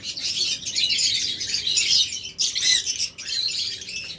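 Caged pet birds offered for sale as breeding pairs chirp and twitter in a dense, bright chorus close by, almost continuous with brief dips.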